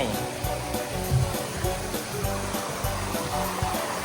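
Strong water rushing down a hotel water slide at the Hua Hin Marriott, a loud continuous hiss and splash close by, with voices talking over it.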